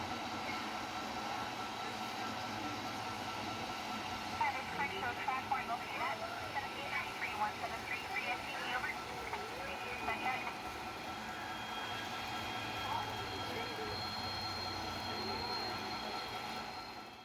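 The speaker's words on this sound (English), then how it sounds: "More Superfleet power comes into play as train 458 flies by." A Santa Fe Superfleet train, number 458, passes by on a model layout, a steady rolling rumble with a rhythmic clickety-clack of wheels over rail joints that swells midway and then settles.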